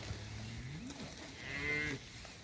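A South Poll heifer gives a single low, drawn-out moo, fairly distant under steady outdoor noise.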